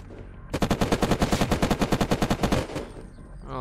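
Rapid automatic gunfire from a PvP fight in the survival game Unturned: one loud, close burst of about twenty evenly spaced shots lasting around two seconds, then a fading tail, with no talk.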